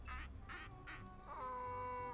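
Duck-quack phone ringtone in a Nancy Drew video game: three bright nasal quacks in quick succession, followed by a steady electronic tone, with no talking.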